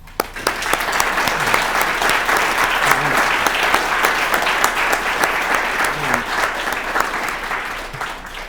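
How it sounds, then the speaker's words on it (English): Sustained applause from a banquet audience at an awards dinner, steady dense clapping throughout at a loud, near level with no talk over it. "I'd like a big round of applause for our unsung heroes."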